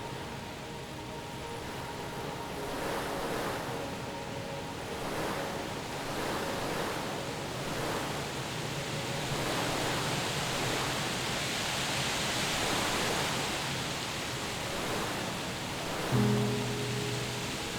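Ocean surf and wind on a winter beach at Cape Cod, a steady broadband roar with slow rolling swells of breaking waves, continuous and fairly loud, with a soft low thump near the end.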